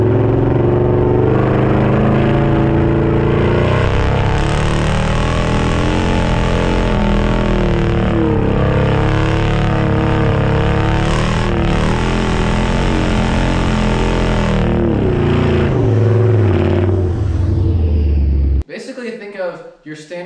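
A straight-piped truck engine rumbles loudly and rises and falls in pitch through a long run of throttle, then cuts off abruptly near the end.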